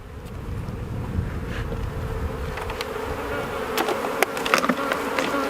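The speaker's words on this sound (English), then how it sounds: "smoke the top, and try to drive every bee that's in this box down into the bottom." Honeybees buzz around an open hive during a spring inspection after a cold Texas winter, a dense continuous drone with individual bees zipping close past, alone without talk.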